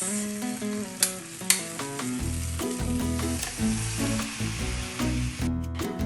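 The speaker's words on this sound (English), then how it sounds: "While the toastie is being grilled," A buttered Mumbai toastie sandwich sizzles as it grills in a toaster, with a steady frying hiss, a couple of sharp clicks, and irregular scraping bursts close by.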